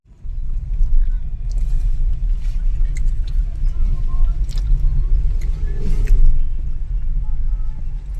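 Low, constant rumble of idling car engines in a traffic jam in Manali, with voices talking nearby and a few faint higher clatters.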